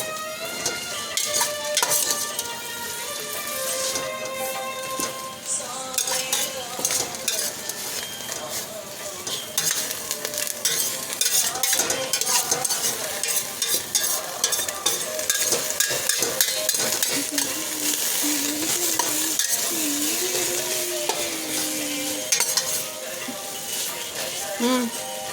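Mint and coriander stems sizzle in a hot pan for a chutney, with steady frying crackle, a spoon scraping and stirring against the metal, and occasional clinks throughout, fairly close, with a voice talking softly at moments.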